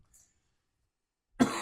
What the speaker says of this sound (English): I'm getting over a cold, so I still got a cough.